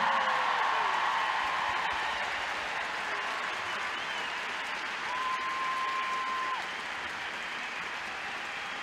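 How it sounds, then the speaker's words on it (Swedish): Arena crowd at Scandinavium in Sweden cheering and applauding at a Hall of Fame event, a dense sustained roar of clapping and shouts, loud and steady throughout with a brief tone sounding midway. "det oförglömliga ljudet som aldrig kan mätas med någonting annat. Skandinaviums publikjubel"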